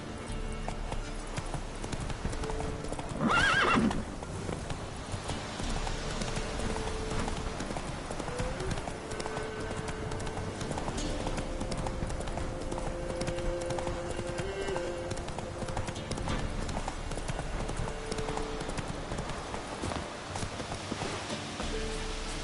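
A horse galloping in The Witcher 3 video game, with steady rapid hoofbeats drumming continuously over steady rain and ambient game sound, fairly loud and close, a brief whinny-like burst early on.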